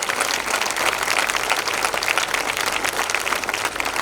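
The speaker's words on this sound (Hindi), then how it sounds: "एक बार तालियां बजा दीजिएगा।" An audience at a Hindi comedy poetry show in Bangalore bursts into dense, sustained applause, loud and close, many hands clapping steadily for the full stretch with no talk over it.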